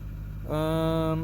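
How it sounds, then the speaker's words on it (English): A 2009 Ford F250 with a 6.4 Powerstroke diesel sits at cold high idle on a roughly 40°F day, a low steady rumble that rises partway through into a louder, sustained tonal drone. "High idle when it's cold."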